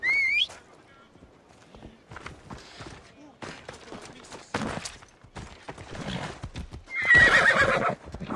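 A horse in a video game whinnies shrilly near the start and near the end, while its hooves clip-clop in a quick galloping rhythm, with brief game noises between.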